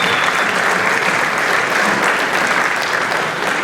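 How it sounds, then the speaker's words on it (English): An audience of about 235 people applauds at a meeting, a dense, steady clatter of clapping hands that fills the room without a break for several seconds. "Give yourself a big round of applause."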